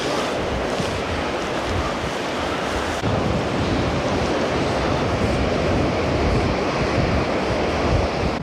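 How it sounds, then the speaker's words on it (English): Ocean waves break continuously on a beach along Scotland's north coast, a steady, loud broadband wash of surf mixed with wind buffeting the microphone, with no voices. "Look at the waves."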